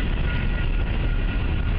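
A Wheeling & Lake Erie freight train, Train 218, rolls through Ohio between Jewett and Parlett. A steady, loud, close rumble of wheels and cars carries on throughout with no break.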